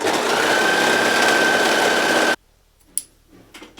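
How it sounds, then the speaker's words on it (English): A serger overlocker stitches the top seams of a garment with a loud, steady, high-pitched motor whir close by. It cuts off sharply partway through, leaving quiet handling sounds. "So we're going to serge the top seams."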